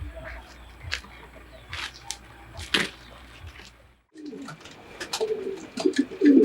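Pigeons coo in a loft, soft and intermittent at first, then a burst of closer, louder cooing near the end, with faint voices in the background.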